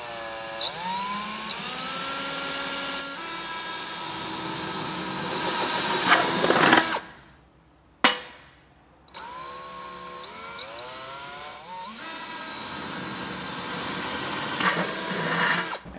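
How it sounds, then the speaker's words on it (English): An electric drill whines steadily with a rising and falling pitch as it drills holes in a metal can lid, cutting out briefly midway before starting up again and grinding on loudly. "using your drill, you want to make two holes directly across on the lid"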